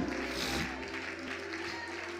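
A congregation at a prayer meeting claps hands together in a continuous, fairly faint patter, with a sustained tone droning underneath.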